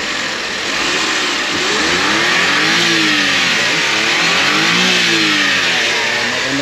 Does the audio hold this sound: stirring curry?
no